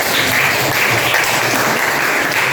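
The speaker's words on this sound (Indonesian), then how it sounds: "Tepuk tangan buat kelompok." Steady applause from a classroom of students clapping for a student group, dense and sustained throughout with no pauses.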